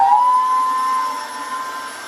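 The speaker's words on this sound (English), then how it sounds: "we're just going to go to hoovering out the helmet now" A vacuum cleaner hoovers out the padding of a crash helmet, its loud steady whine rising slightly in pitch at the start and then droning on evenly.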